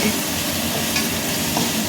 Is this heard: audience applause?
no